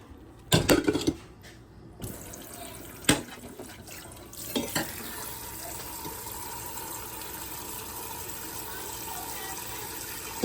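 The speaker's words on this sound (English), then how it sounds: "Wash the beans." Beans being washed under a running kitchen tap: a few clattering knocks and splashes at first, then a steady, continuous rush of water filling and pouring for several seconds.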